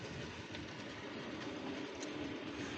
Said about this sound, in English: So look, the train's coming.